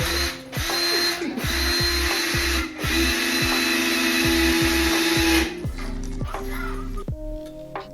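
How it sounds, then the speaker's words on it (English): A power drill driving screws to fasten the top onto a carpeted DIY workbench, with repeated loud whirring bursts and short pauses between them, heard close up and without speech. "After screwing the top on, and I'm going to measure for the tabletop"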